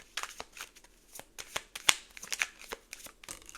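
Tarot cards are shuffled and drawn by hand, giving a soft, close series of riffling flicks and light snaps in an irregular rhythm.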